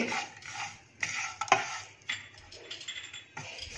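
Whole spices such as fenugreek, black pepper, star anise, cardamom, asafoetida and bay leaf dry-roasted in a pan, with a steady scraping, stirring rasp and occasional light clinks from the utensil, close and continuous without talk.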